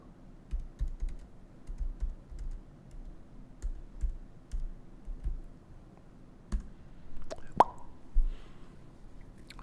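Quiet, intermittent keystrokes on a computer keyboard patter across the whole stretch in short uneven bursts, with a few sharper clicks near the end and no talking.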